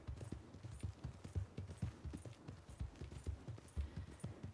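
Horse hooves in the video game Red Dead Redemption 2, a steady clip-clop of a horse walking at an even rhythm, soft and fairly distant, with no talk over it.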